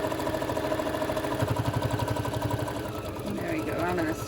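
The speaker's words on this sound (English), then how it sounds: "I'm going to get this sewed over here" A sewing machine stitches a tote bag strap with a fast, even mechanical whir and rapid needle chatter close up, steady throughout, with a voice speaking over it near the end.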